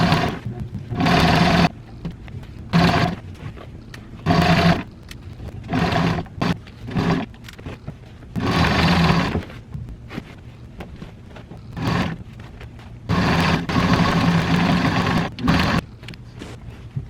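A sewing machine top-stitches a couch upholstery panel in repeated bursts of steady mechanical whirring, separated by short pauses as the fabric is repositioned.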